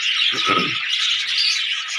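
Budgerigars in a breeding aviary chirp and tweet in a dense, continuous chatter of bright, overlapping calls, close and loud, with no one speaking.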